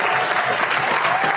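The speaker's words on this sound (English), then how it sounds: "Give him one more round of applause." Audience applause fills a motivational seminar, a dense, steady burst of clapping that stays loud and even throughout the short stretch.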